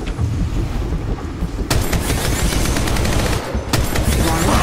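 Sustained automatic weapon fire in the mobile shooter Apex Legends Mobile, loud rapid rattling shots that continue nearly without pause, with brief sharp breaks between bursts.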